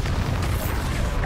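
Bombarda blasting spell going off in the wizarding game Hogwarts Legacy, a dull rumbling burst that fills the whole short moment at steady loudness.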